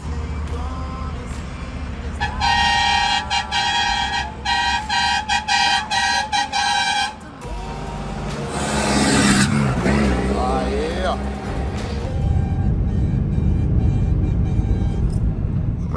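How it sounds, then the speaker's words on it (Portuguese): Repeated car horn honks in quick short bursts, then a passing vehicle engine rumbles by, with voices talking over the traffic. "Olha só a buzinação."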